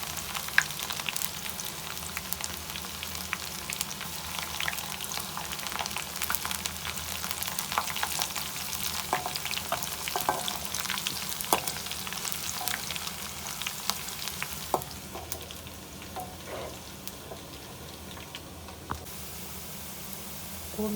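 Onion, whole chilies, curry leaves and white cumin frying in hot oil as a tempering for kadhi pakora, a dense continuous crackling sizzle, close and fairly loud, easing slightly near the end, with no talk.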